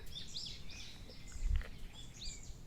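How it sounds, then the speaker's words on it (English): Birds chirp and twitter softly in the distance on Heukseongsan Mountain in late April, scattered bright calls over a quiet outdoor background. "I can hear birds singing"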